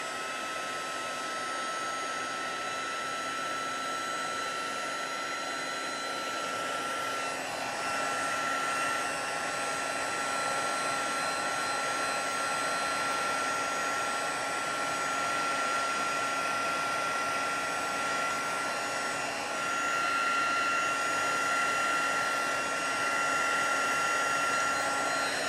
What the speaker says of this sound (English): I'm going to use my heat gun to dry them